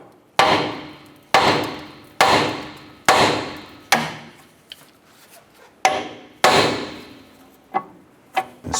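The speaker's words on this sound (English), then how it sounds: "use a hammer. We're going to strike our knuckle here and pop that outer tie rod off" Hammer blows against a steering knuckle to pop loose the outer tie rod on a 2008-2012 Honda Accord, about eight sharp metallic strikes in a steady uneven rhythm, close and loud, with no talking.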